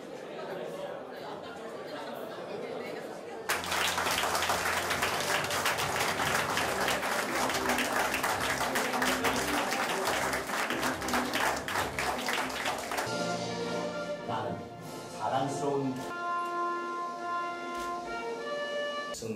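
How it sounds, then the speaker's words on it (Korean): An audience at a monthly political party staff meeting breaks into loud, sustained applause lasting about ten seconds, then fades into scattered clapping and murmuring. A voice speaks over the room around it. "호명이 들을 때마다 뜨거운 박수 부탁드리겠습니다"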